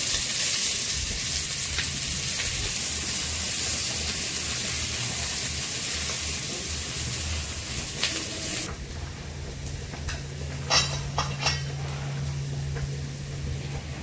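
Chopped onion frying in hot oil with cumin seeds and bay leaf, a steady close sizzle that eases into a softer, even hiss with a few light stirring clicks.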